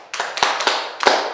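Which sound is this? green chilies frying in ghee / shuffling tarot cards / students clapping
students clapping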